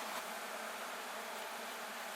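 A swarm of black honeybees buzzes at night near a hive being moved at a château, a dense, steady hum that stays level and close for the whole stretch with no voices over it.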